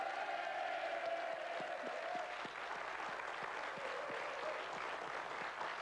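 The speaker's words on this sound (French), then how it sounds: "Alors applaudissements, s'il vous plaît, par fair play." Steady applause from a TV game show studio audience, a dense wash of clapping throughout, moderately distant, with a faint tone lingering underneath at the start.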